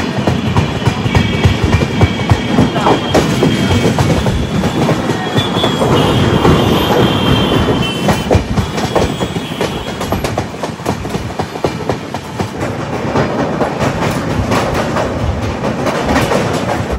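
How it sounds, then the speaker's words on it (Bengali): Aboard the Kanchankanya Express running at speed around 130 km/h, a loud continuous rumble of wheels on rails fills the space, with rhythmic clatter, occasional faint squeals and no talk. "কাঞ্চনকন্যা এক্সপ্রেস কনস্ট্যান্ট কিন্তু 129 130-এ চলছে"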